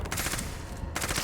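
Pistol fire in the video game Dead Static Drive, a short burst of loud, closely spaced shots across about a second, with a brief gap before more shots resume.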